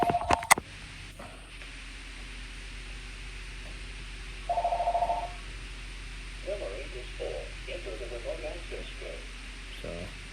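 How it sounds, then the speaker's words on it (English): A house phone rings with two short electronic trills, one at the start and one midway, over a steady hum and faint background noise, with no one speaking. "I'm not even trying to answer that house phone right now"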